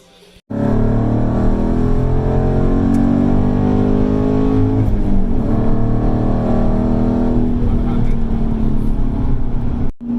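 A 2019 Dodge Challenger Scat Pack with a Borla cat-back exhaust drives along, its deep V8 rumble loud and steady from start to finish, swelling slightly mid-run as it pulls.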